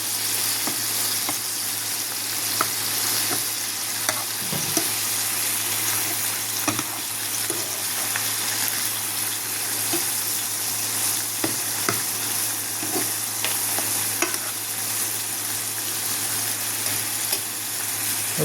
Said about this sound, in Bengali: কুমড়োটা ভাজা ভাজা হয়ে গেছে,